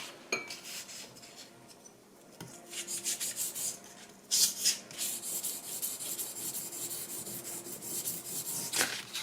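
A knife blade is rubbed along 1000 grit sandpaper in quiet, rasping strokes that repeat unevenly and grow slightly louder midway, with a few faint clicks and no talking.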